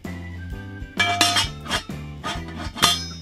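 The heavy lid of a SOTO stainless steel Dutch oven, made from thick 4 mm steel plate, is set on the pot, giving several sharp metallic clinks and clanks over a few seconds with no talking.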